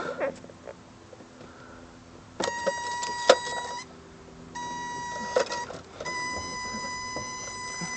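A BMW E28 sounds a steady electronic warning chime for the brake lights in repeated sustained tones. Small clicks and handling noises sit quietly underneath in a calm cabin.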